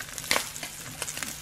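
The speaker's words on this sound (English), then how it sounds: "These have been frying for just a few minutes." Slices of Spam frying in a pan, a steady soft sizzle with crackling pops and one louder burst of spatter near the start, close and with no talking.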